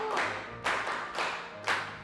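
A few slow, evenly spaced claps for a young girl at a community gathering, four soft beats about half a second apart over a low steady hum.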